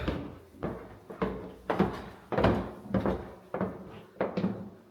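A coat closet door in a living room is worked repeatedly, giving about eight close, sharp wooden knocks and clunks in a steady rhythm over a few seconds, with no talk.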